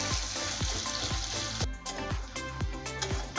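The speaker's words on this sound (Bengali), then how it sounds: "আমি পেঁয়াজটা আস্তে আস্তে লাল করা করে নিয়ে বেরেস্তাটা বানিয়ে নেব।" Onions frying steadily in hot oil, slowly browned to make birista for a Bengali egg korma, with a constant close sizzle and regular clinks of a spoon stirring in the pan.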